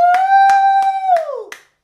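Children at an Easter Sunday church service clap for a guitar player in five steady, evenly spaced claps, close and fairly loud, over a sustained held tone that fades out near the end.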